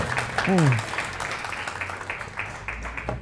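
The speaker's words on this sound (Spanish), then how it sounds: "Vamos a darle un aplauso a mi Señor." Congregation applause rises during a church service, a moderate, steady patter of clapping with a short vocal exclamation near the start.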